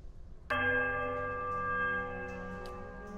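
The right temple bell in the Pillars of Eternity video game strikes once with a warped, warbling peal, then rings on loudly with a rich, wavering tone that lingers, alone without voices.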